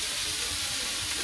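Water poured into a cooking curry makes a loud, continuous, steamy sizzle. The hiss stays bright and even from start to finish, with no voices.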